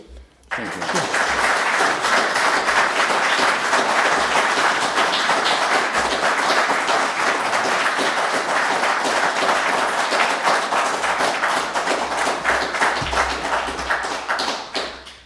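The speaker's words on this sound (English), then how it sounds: "That was the best round of applause we've had this afternoon" A committee meeting audience breaks into a loud, sustained round of applause that starts abruptly, holds steady for about fourteen seconds, then tapers off.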